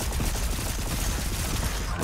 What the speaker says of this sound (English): those guys with their machine guns are just...